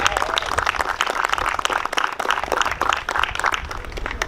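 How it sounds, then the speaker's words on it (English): Lively applause from a crowd at a city flag ceremony, many overlapping claps at a brisk, continuous pace, fairly close. "I'd like to give you all a round of applause for Trey,"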